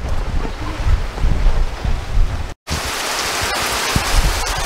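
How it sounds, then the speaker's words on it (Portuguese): Heavy rain pours down at night on a rural smallholding, a loud, dense, continuous wash of falling water with a brief cut in the middle. "Olha, pessoal, a chuva chegou,"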